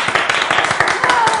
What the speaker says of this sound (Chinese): 给 HBO 一个掌声。